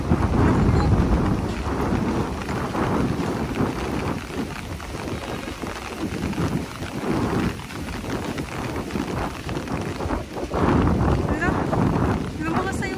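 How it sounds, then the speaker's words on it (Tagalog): Strong wind gusts across the beach at Manila Bay, buffeting the microphone in rough surges with splashy rain-like hiss, under someone speaking. "Ayan na, lumakas na yung hangin."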